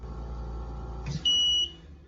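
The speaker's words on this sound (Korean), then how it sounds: "이제 정전 경보음을 재현해 볼 것입니다" An Invacare oxygen concentrator sounds a power failure alarm: one steady, loud electronic beep tone lasting about a third of a second, heard over a low machine hum.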